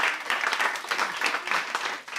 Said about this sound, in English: I think our sandcastle deserves a round of applause